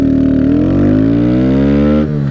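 A Kawasaki Z125 Pro motorcycle accelerates hard and close, its engine note rising steadily through a gear before a quick shift dip near the end, loud with no talk.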